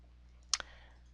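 A computer mouse gives a quick double click, two sharp close taps in a quiet room while shapes are being selected, with nothing else heard.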